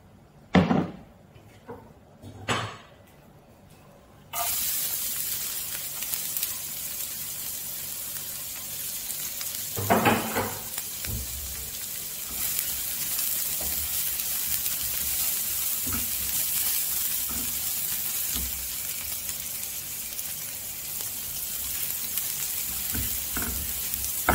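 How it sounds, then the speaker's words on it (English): Garlic fries in sesame oil in a pot, with a few close knocks and clatters at first, then a loud, continuous hissing sizzle with occasional utensil taps. "So I'm going to fry this garlic with this sesame oil."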